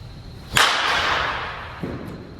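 A single sharp crack of a wood bat, made from an alternative wood, striking a baseball, followed by a bright decaying ring and a faint second knock about a second later, heard fairly close with no talk.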